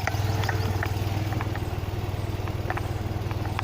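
An old Tata Nano's small engine idles steadily up close, a low, even, pulsing rumble with a faint rattle and no voices.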